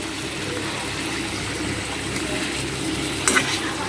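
Fish curry bubbling in a pan at home, a steady hiss of simmering and faint sizzle that holds evenly throughout, with a brief louder clatter near the end.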